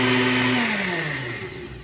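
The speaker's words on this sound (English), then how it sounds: "I'm gonna just give this a quick mix" Electric mixer whirring through crepe batter in a quick mix, a loud, steady motor whine that drops slightly in pitch as it runs, close up and alone.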